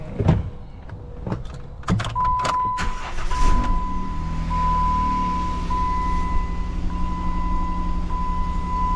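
A Jeep Wrangler, just fitted with a new coil pack, cranks with a few sharp starter bursts and catches. It then settles into a steady idle with a faint whine, heard close and alone.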